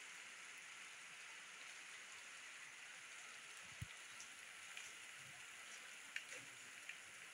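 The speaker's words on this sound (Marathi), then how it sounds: "मस्त पाऊस सुरू झालेला आहे" Monsoon rain falls softly outdoors as a faint, even hiss, with a few isolated drops or taps standing out now and then.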